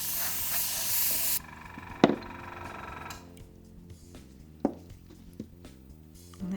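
An airbrush sprays alcohol ink onto a ceramic tile, opening with a loud, close, steady hiss of air that stops abruptly, followed by quieter stretches broken by a few soft knocks and taps.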